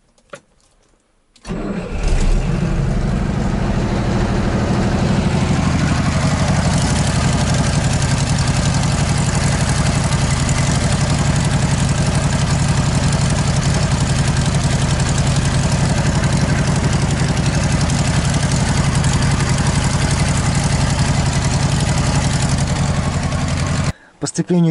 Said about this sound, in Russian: Сейчас вот с полпенька сразу завелась.